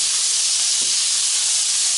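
Onions sizzling on a grill for a fried onion burger, a loud, steady, close hiss that holds unbroken throughout with no talking.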